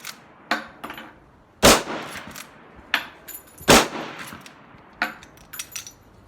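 Lever-action rifle shots outdoors, two sharp loud reports spaced apart, with metallic clanks and clicks from the lever being cycled in between.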